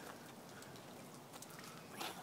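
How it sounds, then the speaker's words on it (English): Rain falls outside during an unusual Alabama winter spell, a soft, steady hiss of drops that stays faint and even throughout, with a slightly louder patter near the end and no speech. "You see the rain?"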